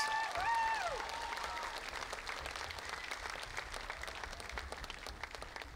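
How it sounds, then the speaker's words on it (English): Sustained applause from an audience at a Showquest 2019 school stage performance for Garin College, dense clapping filling the hall, loudest at the start and then holding steady, with a brief whoop or vocal tone early on. "give a huge round of applause to Garin College"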